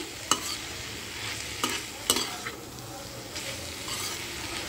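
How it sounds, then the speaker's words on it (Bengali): Fried potato is stirred into banana flower in a frying pan: a continuous gentle sizzle with a few sharp scraping strokes of the spoon, fairly quiet and close. "আলুটাও মোচার সাথে ভালোভাবে মিশিয়ে নিচ্ছি"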